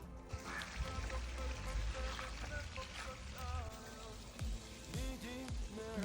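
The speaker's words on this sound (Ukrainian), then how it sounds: "Зараз буду заливати водою." Water pours and splashes steadily into a planting hole in soil at close range, a continuous trickling gush with faint background sounds, while planting kohlrabi.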